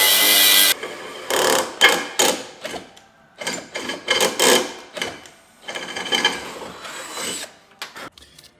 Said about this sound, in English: we want to drill the other holes perfectly in the middle